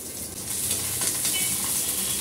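Spices, dried chilies and chopped garlic sizzle steadily in hot mustard oil, a close, continuous crackling hiss with no voices.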